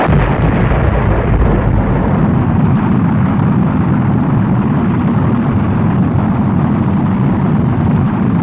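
Rocket plane firing its engine for takeoff, a loud, dense, continuous roar that fills the whole stretch without letup.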